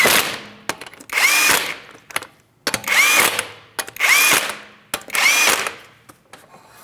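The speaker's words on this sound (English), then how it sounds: "go ahead and start on all 5 of your 19mm lug nuts" A power tool running the 19mm lug nuts on a Chevrolet Malibu wheel, five loud close whirring bursts with rising pitch, separated by short pauses as it moves from nut to nut.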